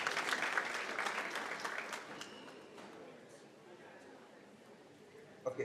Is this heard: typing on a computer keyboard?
no